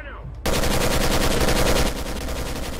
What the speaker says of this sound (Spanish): Hay un aliado que está disparando algo.